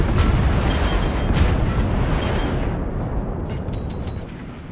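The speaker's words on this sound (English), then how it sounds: "I can shoot the weapons for once." In the video game Forts, weapons fire and explode in a dense, loud rumbling barrage of booms that gradually fades toward the end, with no voices.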